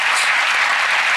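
A television magic-show audience applauds a trick, a dense, steady burst of clapping from a large crowd that fills the whole short stretch without any voices.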